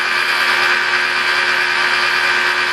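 A rotary polisher with a wool pad spins at roughly 1500 to 2000 RPM on a black car's paint, a loud steady whirring drone with a constant motor whine and no voices.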